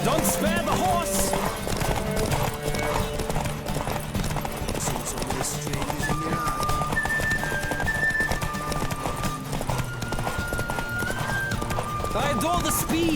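Hoofbeats of a galloping horse in The Witcher 3 pound in a fast, unbroken clip-clop, with a whinny or two, while character voices and game music sound over the ride.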